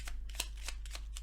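Oracle cards from a small forest-themed deck are shuffled in a series of crisp, quick riffling bursts, close and fairly quiet, with no talking.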